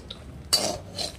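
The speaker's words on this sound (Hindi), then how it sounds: "अभी मैं भून रही हूँ मखाने और ड्राई फ्रूट" Makhana (fox nuts) and dry fruits dry-roasting in a pan, with a short rattling scrape of stirring midway and a softer rattle near the end.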